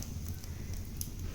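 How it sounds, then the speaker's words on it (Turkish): Fire crackling close by on a farm, with sharp little pops and snaps over a steady low rumble, continuous and fairly quiet. "Duyuyor musunuz ateşin sesini?"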